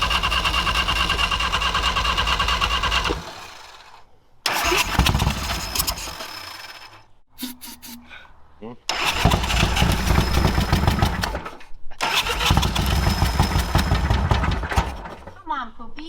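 A Harley motorcycle engine cranks and sputters in repeated bursts, roaring briefly then cutting out between attempts, with people talking nearby during the pauses.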